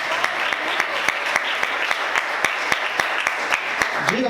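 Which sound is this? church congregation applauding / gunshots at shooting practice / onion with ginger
church congregation applauding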